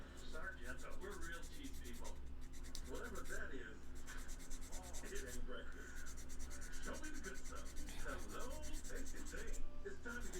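Close, steady hand sanding makes a soft, continuous rubbing and scratching, with faint voices in the background.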